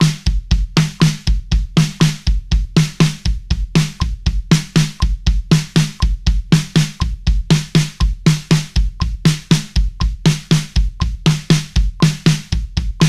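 A bass drum exercise mixing single and double kick strokes, punchy low thumps in a fast, steady, repeating pattern of grouped hits, close and loud for the full length with no voice over it.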